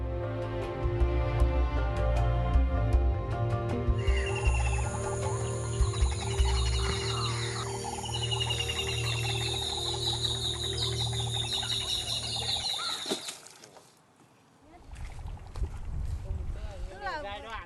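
Birds call in the mangrove wetlands of Xuân Thủy National Park, Vietnam. Repeated chirps and trilling whistles sound over a low, steady boat-like rumble, then the rumble drops away and a brief lull comes before the sound picks up again.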